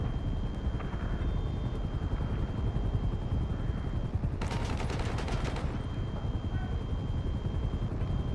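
In GTA V Online, helicopters drone continuously while a rapid burst of automatic gunfire rattles out midway, aimed at an Avenger aircraft, over a dense, busy game soundscape.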